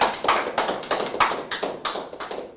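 A small audience claps for children at a Korean mugunghwa event: a short burst of distinct, uneven hand claps, fairly close and clear, fading slightly toward the end.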